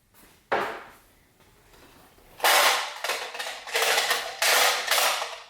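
A metal tool drawer in a garage workshop slides open and shut during engine prep on an LS-swapped Nissan 350Z, giving one short clatter followed by a run of louder, close rattling slides and thumps.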